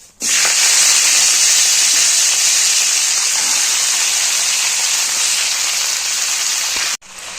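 Raw spinach with green chillies drops into hot oil tempered with panch phoron and dried red chilli, setting off a loud, sustained sizzling hiss that begins abruptly and cuts off near the end.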